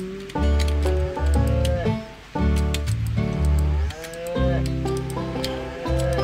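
Cows in the farming game Harvest Life moo loudly and repeatedly at close range, with long, deep, overlapping calls that fill the whole stretch.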